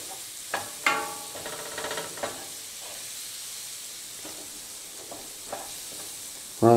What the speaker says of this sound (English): And you're going to stir this in until the flour